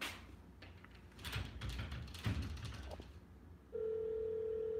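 A phone system's dialing tone, a steady electronic hum that sets in after a stretch of clattering handling noise and muffled sounds and holds loud and constant to the end.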